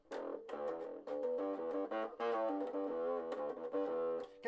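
A bass guitar played through a GT-1000 amp with a distorted tone, a series of fat, buzzy plucked notes and sustained chords with short gaps between phrases, loud and close with no talking.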